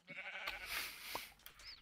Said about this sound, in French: Y a 10 moutons là-bas.